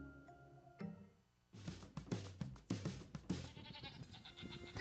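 Goats bleating on a goat farm, several loud close bleats in quick succession, alone without talk.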